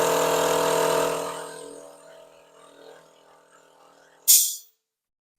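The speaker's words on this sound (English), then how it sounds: "That enough make me jump every time that compressor kicks in." An air compressor starts up in a woodworking shop, a loud steady motor drone that runs for over a second and then fades, followed by quiet and a sharp hissing burst near the end.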